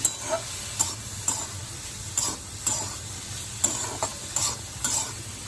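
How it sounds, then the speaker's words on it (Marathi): Cauliflower stir-frying in a pan with salt and turmeric: a steady low sizzle with periodic scraping strokes of a spatula roughly every half second, close up and without speech. "मीठ व हळद टाकल्यानंतर आपल्याला पुन्हा हा फ्लावर परतून घ्यायचा आहे"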